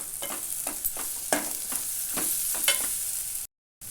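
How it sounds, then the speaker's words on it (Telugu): Curry leaves sizzle as they fry in hot oil for a garlic-chili egg fry, a close, steady crackle with repeated sharp spitting bursts and no voices. "వేగిన తర్వాత అందులో పైకి వెళ్ళి మంచిగా కరివేపాకు వేసుకోవాలి."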